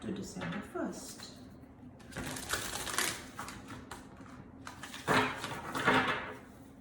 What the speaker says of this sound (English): these are big cards, so I find them tough to shuffle sometimes